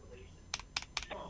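A few quick keystrokes on a computer keyboard land in a short burst of clicks, close but faint over a quiet room hum.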